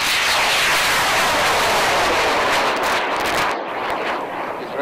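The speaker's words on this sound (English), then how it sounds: "The rockets fly miles high over the lake bed." A high power rocket launches from a dry lake bed with a loud, sustained roaring rush that fades out after about four seconds.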